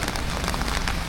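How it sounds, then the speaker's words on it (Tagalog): Steady rain falls on a surface in a dense, even hiss, close and continuous through a brief moment in cold weather. "umuulan."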